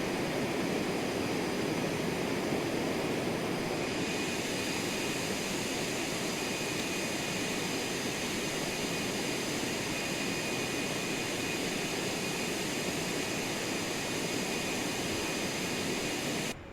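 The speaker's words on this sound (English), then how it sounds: "What a neat airplane." Steady, loud engine roar of a light airplane heard from inside the cockpit on a 15-mile final approach to runway 23 at Farmington, a continuous drone that holds without letup and with no talk over it.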